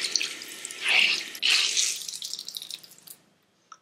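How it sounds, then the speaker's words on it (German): Running tap water splashes and hisses in a sink as a makeup brush is rinsed under the stream, the flow swelling louder twice, then tapering off to a few drips and silence. "Und dann kann man den einfach ganz einfach unter fließendem Wasser ausspülen und ausbringen, solange bis kein Schaum mehr rauskommt."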